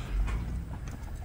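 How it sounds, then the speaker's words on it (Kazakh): Horses are unloaded at a village ulak (kok-boru) gathering in Küngöy. Their hooves give a brief, muffled clip-clop of a few soft thuds over low background rumble. "аттарды түшүрүп"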